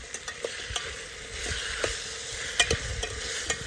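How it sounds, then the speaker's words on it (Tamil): Four green chillies sauté in a pan for biryani, sizzling steadily up close while a spoon scrapes and taps the pan in irregular stirring strokes. "இப்போ நம்ம காம்பு பிச்சு போட்ட 4 பச்சை மிளகாய் இதை நம்ம உள்ளே சேர்த்து வதக்கிக்கலாம்."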